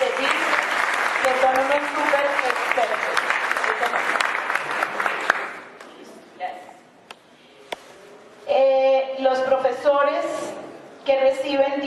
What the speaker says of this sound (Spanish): Un aplauso para todos los maestros de TICS